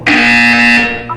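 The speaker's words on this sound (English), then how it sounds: "When you hear the buzzer, look up at the ceiling." A loud, sustained electronic buzzer from the Portal 2 video game blares for about a second, steady and harsh, then fades with a brief chime-like tail.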